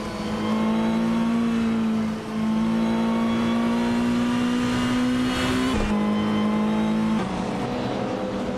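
A 1992 Ford Escort RS Cosworth and other race cars at Eastern Creek at the start of a race, heard as a loud, steady engine drone that holds its pitch, then drops and shifts near the end.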